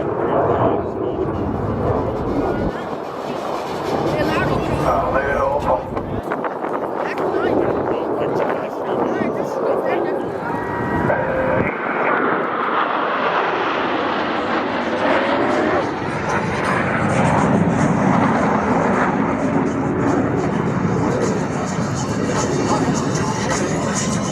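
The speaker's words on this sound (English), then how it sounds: "All 4 pilots will simultaneously roll their aircraft 360 degrees as they perform the Diamond aileron roll" Four airshow jets roll together in a Diamond aileron roll over New Orleans, a loud, sustained jet roar that swells and shifts in pitch under a commentator's voice over the loudspeaker, with wind buffeting throughout.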